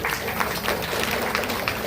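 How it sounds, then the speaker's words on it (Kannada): An audience at a women's association's 25th anniversary cultural celebration claps in a steady, fairly quiet wash of applause that continues evenly for a couple of seconds. "ಎಲ್ಲರಿಂದ ಒಂದು ಚಪ್ಪಾಳೆ ಬರಲಿ"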